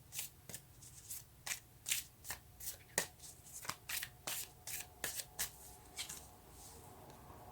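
Tarot cards being shuffled by hand up close, a quick series of about a dozen crisp riffling bursts in steady rhythm, fairly quiet and with no voice.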